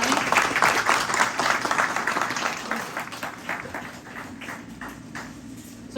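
Audience applause at the opening ceremony of a Special Olympics clay shoot, a dense crowd clapping strongly at first, then thinning and fading over about six seconds.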